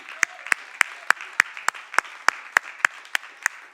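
At a church worship service, sharp claps ring out in an even, steady beat about three per second, crisp and fairly close over a soft murmuring background.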